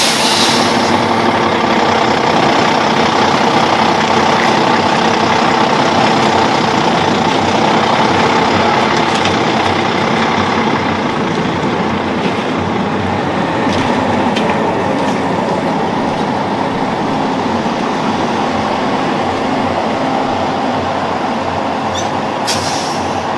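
A fairground shooting gallery being towed away from a village funfair, heard as a steady, heavy rumble of a truck engine and rolling wheels with faint clattering, holding close and even for the whole stretch with no voices.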